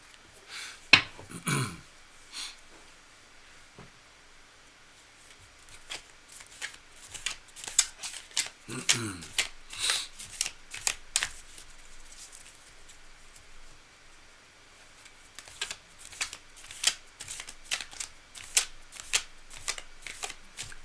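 A tarot card deck is shuffled by hand in repeated bursts of riffling and flicking, close and crisp, with quieter pauses between rounds and no talking.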